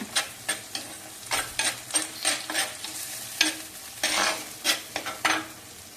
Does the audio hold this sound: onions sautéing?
yes